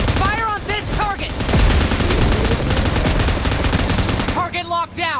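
Dense automatic gunfire in the video game PUBG Mobile rattles loudly and continuously, with whistling, chirping electronic effects over it.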